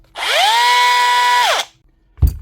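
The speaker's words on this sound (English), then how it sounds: "Bosch cordless grinder." A Bosch cordless angle grinder, reported low on power and smoking, spins up with a loud whine, holds steady for over a second and winds down, followed by a short thump.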